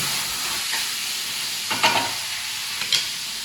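Onions and garlic fry in a pan for a paneer curry, giving a steady soft sizzle with a couple of brief louder scrapes of stirring near the middle and end.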